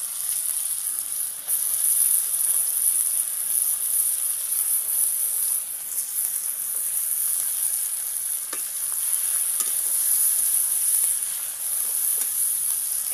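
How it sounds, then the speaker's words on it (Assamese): Eggplant fries in leftover fish oil in a pan, giving a steady, close sizzling hiss with occasional stirring scrapes throughout. "মোৰ মাছৰ তেলখিনি আছিলে যে সেইখিনি দি দিছোঁ আৰু লগতে বেঙেনাখিনিও দি দিছোঁ"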